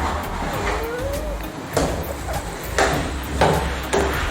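A rubber ceramic mallet taps a ready-made wall panel onto the wall surface during installation, a few dull knocks spaced irregularly over a steady background rumble.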